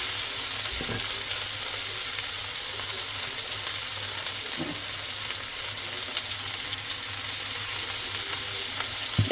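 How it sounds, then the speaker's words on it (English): Tomatoes cook in a pan for a simple tomato basil pasta, giving a loud, steady, close sizzle that holds throughout, with a couple of brief low knocks from stirring and no speech. "I'm going to cook the tomatoes until they are starting to be soft, and then squash them"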